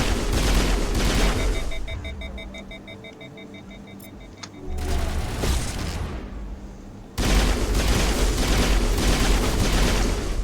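Sustained rapid gunfire in the sci-fi shooter Mass Effect, dense crackling volleys filling the scene, dropping away briefly with electronic tones and beeps in between before a loud renewed burst of shooting.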